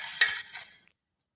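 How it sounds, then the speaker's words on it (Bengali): A spoon stirring salt into hot water in a bowl, a brief scraping swish with one sharp clink near the start, close and quiet, then silence. "লবণ আর গরম জলটাকে খুব ভালোভাবে মিশিয়ে নিচ্ছি।"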